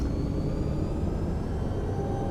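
Continuous broad turbine roar with a faint rising whine, steady and loud throughout, as helicopter turbines start up in a search-and-rescue video game. No talking.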